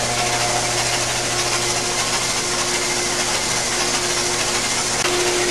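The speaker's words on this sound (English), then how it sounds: "So this engine is starting to get initialized and break in a little bit." A 383 marine engine runs steadily on a break-in test stand, giving a loud, even, continuous hum with a few steady tones and no change in pitch.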